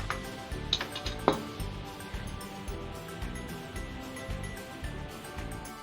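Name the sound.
beating cake batter of flour and baking powder by hand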